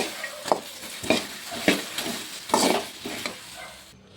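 Okra fried and stirred in oil in a pan for a village-style gojju, with a run of loud, close scraping stirs spaced about half a second apart over a soft steady sizzle.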